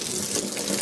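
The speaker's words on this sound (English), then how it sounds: "I have hot water rolling coming out" Hot water runs from a tap into a sink, a loud, steady hissing splash heard close by and alone for under a second.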